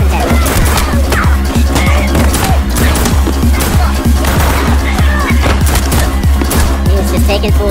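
Rapid gunfire from the action movie John Wick Chapter 2, dense bursts of loud shots and crashes packed tightly together, continuous and close throughout.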